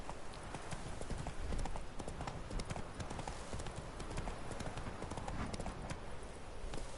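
Roach, the horse in The Witcher 3, gallops in a fast, continuous clip-clop of hooves that is loud and close throughout.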